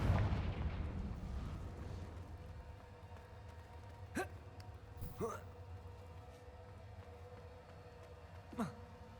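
Confringo explosive spells fire in the video game Hogwarts Legacy, producing three sharp, quick bursts spaced a few seconds apart over a quiet background.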